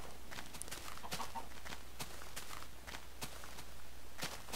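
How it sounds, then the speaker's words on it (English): A chicken clucks in the video game Minecraft, quiet and intermittent against a steady run of in-game footsteps, with no talk. "A chicken."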